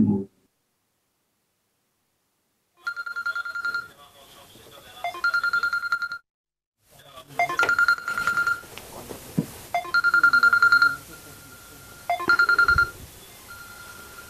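A telephone rings in repeated electronic bursts, loud and close, with short gaps between rings and a brief pause near the start; a voice is heard faintly among the rings.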